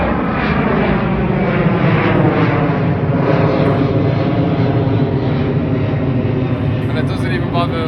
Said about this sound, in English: the planes will just fly over